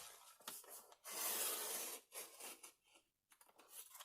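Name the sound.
paper trimmer cutting envelope flap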